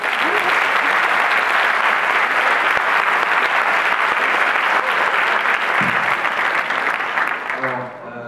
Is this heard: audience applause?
yes